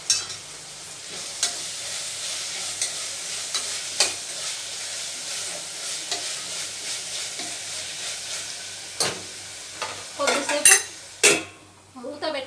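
Mutton curry with fenugreek leaves cooks in a pan with a soft, continuous sizzle, broken by repeated scraping stirs and sharp clinks of a utensil against the metal, busiest near the end.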